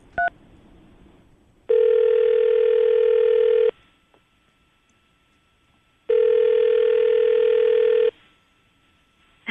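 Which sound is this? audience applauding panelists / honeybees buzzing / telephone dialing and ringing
telephone dialing and ringing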